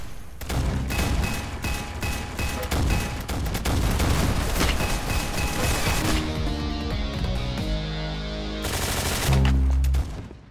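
Gunfire in the Roblox game Arsenal: rapid sustained automatic fire and repeated shots, loud and dense, easing into scattered blasts toward the end, with no talking.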